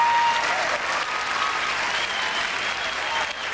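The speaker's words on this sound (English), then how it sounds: "Please give him a big round of applause." An audience gives a participant a big round of applause at a card-trick show. The clapping is loud, dense and sustained, filling the room steadily with a faint murmur of voices.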